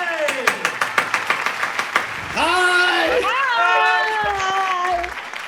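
A studio audience greets someone with a short burst of clapping, followed by loud sustained cheering and whooping from the crowd, with a voice speaking briefly.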